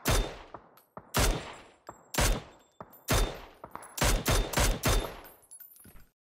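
Bursts of automatic gunfire in the battle royale video game PUBG, loud close volleys repeating several times with short gaps, alone without talk.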